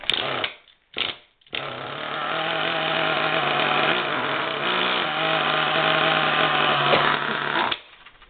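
Nitro radio-controlled car engine sputtering briefly twice, then catching and buzzing at a high, steady rev for several seconds, loud and close, before cutting off abruptly.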